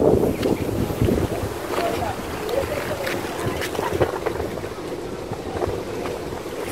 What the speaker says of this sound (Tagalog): Rito ang hangin.